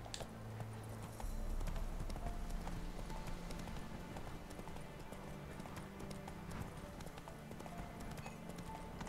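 Roach, the horse in The Witcher 3: Wild Hunt, gallops at steady speed, its hooves drumming a continuous clip-clop over a dense bed of game music and ambience. Someone talks over the galloping.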